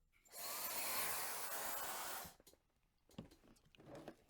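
A Gamma IQ hair dryer fitted with a diffuser blows a steady, loud rush of air for about two seconds, then cuts off, leaving faint handling noises.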